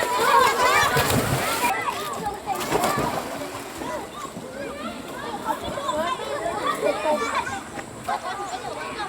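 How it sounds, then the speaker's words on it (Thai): Children jumping and splashing into river water at Kaeng Bang Rachan, with repeated splashes under lively crowd chatter, shouts and birdsong throughout. "เด็กมันจะโดดน้ำครับพี่"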